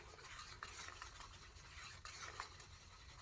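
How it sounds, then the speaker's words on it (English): Darker pink resin mix is stirred in a cup, giving a quiet, continuous scraping and swishing with a few small taps of the stirrer against the sides, close and faint, with no speech. "Just going to mix up a little bit more of this darker pink."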